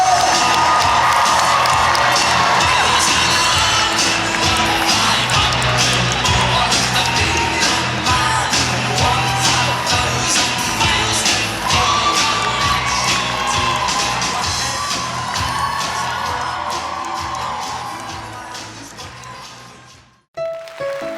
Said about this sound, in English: Please, welcome a big round of applause for David.